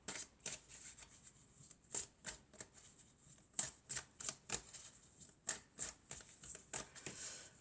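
A deck of divination cards is cut and handled, giving a run of soft, close papery flicks and snaps in irregular clusters at low volume, with no talking.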